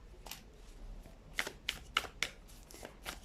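Tarot cards being shuffled and laid out in a pick-a-card reading, a quiet run of soft riffling followed by four distinct light snaps of cards landing, close and alone without talk.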